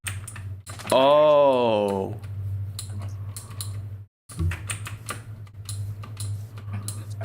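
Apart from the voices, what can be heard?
computer keyboard typing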